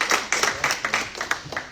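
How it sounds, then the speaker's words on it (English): Scattered, uneven clapping from a small audience at a school accountability meeting, a handful of separate hand claps sounding close and sparse over a couple of seconds. "Now y'all can actually clap."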